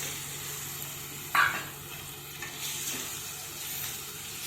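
Prawns, washed with turmeric and salt, sizzle steadily in a hot pan, a soft continuous hiss with a brief louder crackle early on and light stirring sounds.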